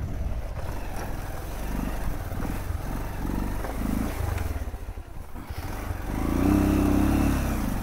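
A motorbike labours uphill on a rough, broken road, its engine droning loud and close with surges of revving toward the end.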